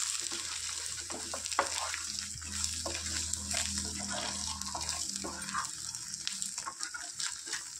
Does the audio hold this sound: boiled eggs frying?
yes